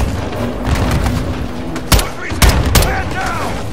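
Grenade blasts and gunfire in Call of Duty MW2 (Cartel mission), with a steady din of battle noise and three sharp, loud explosive bursts near the end as a voice talks over the action.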